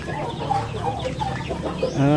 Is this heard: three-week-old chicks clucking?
yes